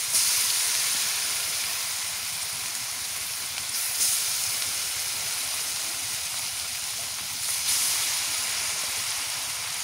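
Hilsa fish frying crisp in hot oil, a continuous loud hissing sizzle with brief surges around the fourth and eighth seconds.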